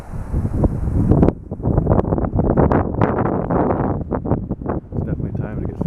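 Wind blows at a backpacking campsite in Jasper National Park, loud gusty buffeting across the microphone with low rumbling throughout, while someone talks over it.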